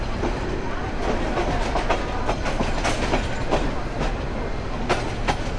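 Dewanganj commuter train rolling on rails near Tongi Junction in Gazipur, a continuous close rumble with rhythmic clickety-clack of wheels over rail joints, no voices.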